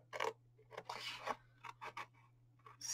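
Scissors snipping paper while making a slider gift box, a series of short, close, dry cutting strokes in uneven rhythm over a faint steady hum.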